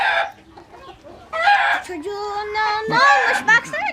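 A rooster crows with a drawn-out call, mixed with clucking from nearby fowl while people talk over it.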